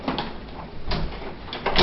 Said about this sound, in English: This door doesn't close very well.